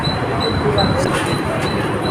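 A local train stands at Dahanu railway station on a crowded day, giving off a constant rumbling hum with faint high metallic squeals, while people talk nearby.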